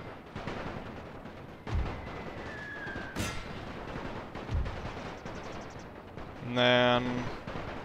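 Distant war-game battle in The Great War, a World War I strategy game on a Serbian front: scattered thumps of gunfire and artillery rumble under steady talk, with a sharp blast near the three-second mark and a louder burst later.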